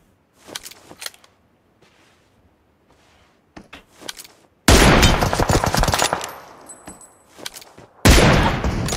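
Gunfire in the mobile battle-royale game PUBG Mobile: a few faint, scattered shots early on, then two loud, long bursts of rapid automatic fire, near and harsh.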